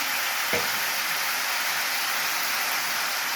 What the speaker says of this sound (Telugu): ముందు పచ్చిమిర్చి వేసుకుందాం ఆయిల్లో